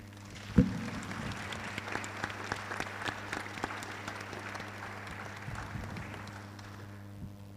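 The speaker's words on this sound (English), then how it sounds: "a big round of applause for them" Audience at an Earth observation and nature-based solutions conference session applauds its panel, with sustained broadband clapping for about seven seconds that fades near the end, over a steady low hum.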